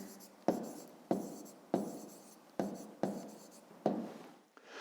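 Pen strokes on paper during a fifth-grade maths exercise, six short scratchy bursts in a steady rhythm, each a quick stroke that fades, close and fairly quiet with no talking.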